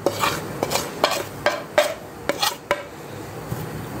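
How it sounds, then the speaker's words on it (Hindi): A spoon stirs spices into yogurt in a bowl, with a series of irregular clinks and scrapes against the dish spaced through the clip, close and clear, with no talking. "इन सारे मसालों को मैं मिक्स कर लूँगी इस तरह से"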